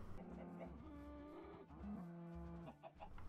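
A cow mooing in the video game Minecraft on an Xbox One, several long drawn-out lowing calls close by, mixed with chicken clucks and occasional talk.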